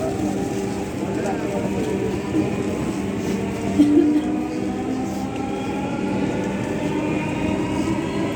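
A Dhaka Metro Rail train runs between Farmgate and Mirpur 11, heard from inside as a loud, steady rumble with a faint rising motor whine and a brief clunk midway.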